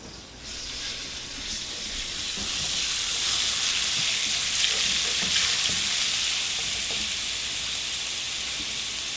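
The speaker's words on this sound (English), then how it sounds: "2 tablespoons of cooking oil, tablespoon of garlic. We'll heat this up." Garlic frying in two tablespoons of hot cooking oil, a steady bright sizzle that builds over the first few seconds and then holds loud and continuous, with faint stirring ticks underneath.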